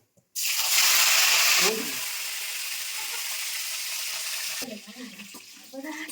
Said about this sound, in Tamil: எண்ணெய் காஞ்சதுக்கப்புறமேட்டு இப்போ எடுத்து வச்ச அந்த பட்டை இது எல்லாத்தையும் சீரகம் எல்லாத்தையும் போட்டுக்கலாம்